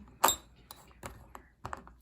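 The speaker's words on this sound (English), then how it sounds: "She's getting herself a drink of water." Light clinks of glass and dishware in a kitchen, a few brief taps and knocks spread out over a couple of seconds, moderately close.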